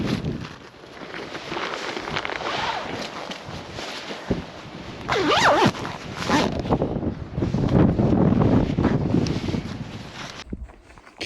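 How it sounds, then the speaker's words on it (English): Strong wind gusts buffet the microphone outdoors in a national park, a rough rumbling roar that swells and fades in surges before cutting off abruptly. "It just got very windy."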